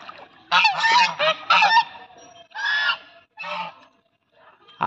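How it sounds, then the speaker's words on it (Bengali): Several geese at the edge of a pond give loud, close honking calls in separate bursts, with quiet pauses between them. "এই পুকুরের ধারে দেখো কত রাজহাঁস, কিরম রাজহাঁসগুলো জলে নেমে যাচ্ছে দেখো"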